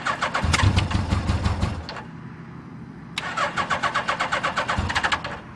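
A Suzuki GS850G street bike cold-starting: a loud, near, rapid bursting engine fires, cuts out to a lull, then catches again with a quick uneven chugging idle.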